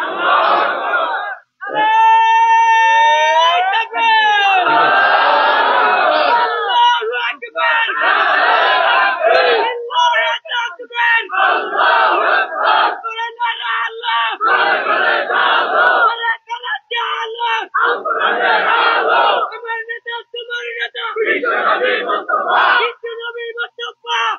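A large outdoor religious gathering at a mahfil in Noakhali, Bangladesh, where a crowd loudly and repeatedly chants a takbir response in rhythmic surging bursts, the massed voices close and full, with a lead voice calling between the waves.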